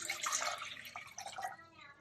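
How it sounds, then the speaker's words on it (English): Filtered water pours into a pot for elderberry syrup, making a close, bubbly splashing that fades and thins out near the end. "I'm going to start by adding 1 quart of filtered water."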